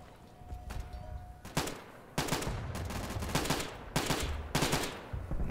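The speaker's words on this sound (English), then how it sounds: "Switching over to semi-auto for ranged fire." Semi-automatic rifle fire in the tactical shooter game Insurgency, several loud bursts of rapid shots in separate volleys with short pauses between them, close and dominant, no talking.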